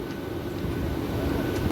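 A Super EMU local train on the Bardhaman–Howrah chord line moves along with a steady, loud rumble and rattle heard from inside the moving train.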